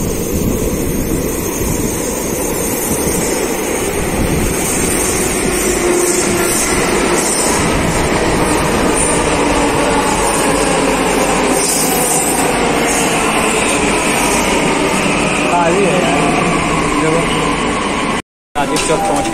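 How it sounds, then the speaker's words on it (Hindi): A loud, steady rumble and whine of a Delhi Metro train running and pulling in, continuous and close, with a voice speaking over it. "मेट्रो की क्या आवाज आ रही है और आने वाली है मेट्रो"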